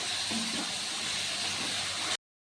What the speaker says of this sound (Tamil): இப்போது கட் பண்ணி வச்சுருக்க தக்காளி சேர்த்துக்கிறோங்க நல்லா வதக்கிக்கலாம்